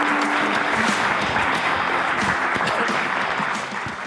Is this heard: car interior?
no